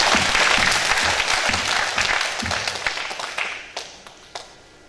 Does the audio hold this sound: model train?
no